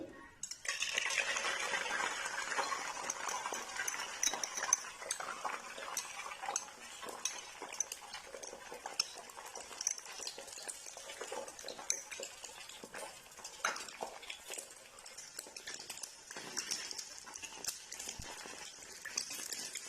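Beaten eggs cooking in two tablespoons of oil in a pan, stirred and broken up slowly with a spoon, with steady sizzling and repeated light metal clinks of the spoon against the pan throughout.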